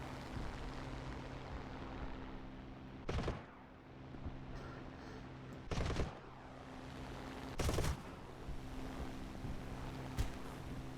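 Spitfire Mk Vb cannon fire in a flight combat video game: four short, sharp bursts spaced a couple of seconds apart over a steady aircraft engine drone.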